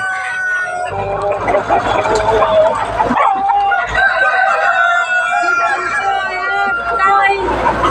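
Tiger chickens on a poultry farm, with loud nearby clucking and repeated crowing over a constant flock din, mixed with people talking in the background.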